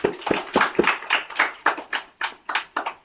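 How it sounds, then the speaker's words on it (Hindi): A group of schoolchildren in a classroom clapping together in a quick, uneven burst of applause lasting a few seconds, close and fairly loud. "इसके लिए ताली बजाओ"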